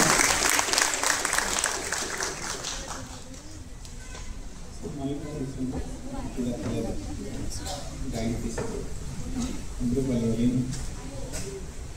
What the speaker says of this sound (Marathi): आम्रपाली पगारेसाठी एकदा जोरदार टाळ्या होऊ द्या